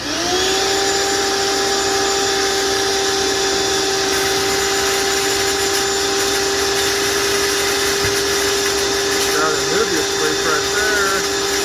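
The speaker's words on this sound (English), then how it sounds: "now we're going to turn this shop vac on" A shop vac runs steadily and loudly, sucking water out of a blue jelly shrimp tank, with a constant motor drone and a high whine throughout and brief gurgling slurps near the end.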